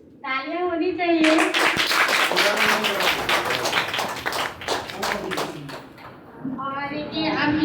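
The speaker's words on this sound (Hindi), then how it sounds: "तालियां होनी चाहिए" An audience at an old-age home event claps in a dense burst of applause that runs for several seconds, mixed with voices and children talking, before it thins out and a speaker talks again.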